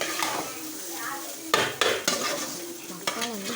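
A spoon stirs and scrapes egg rice sautéing in a hot pan, sharp repeated metal clacks over a steady close sizzle, with no talk.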